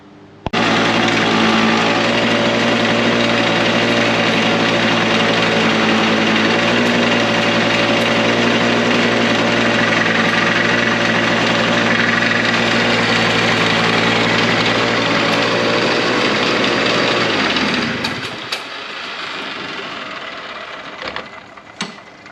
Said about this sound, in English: That certainly sounds like the belt